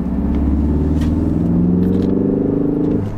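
A Ford engine running on autogas (LPG) revs loudly and close, a deep throaty rumble rising and holding with a slightly rough, pulsing texture.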